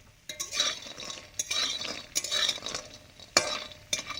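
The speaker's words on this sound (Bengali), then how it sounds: "বড়িগুলো হালকা ভাজা হয়ে যেতে সর্ষের তেল দিয়ে দিয়েছি" Lentil bori frying gently in mustard oil over a low flame, with a soft background sizzle broken by repeated spoon stirs and scrapes against the pan, close and moderately loud.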